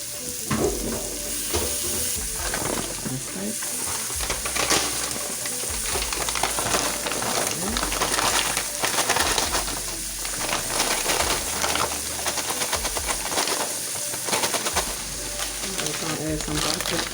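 Dried quinoa stirred and frying in a pan with onions and peppers, a steady broadband sizzle with scraping stir strokes running continuously and fairly loud throughout.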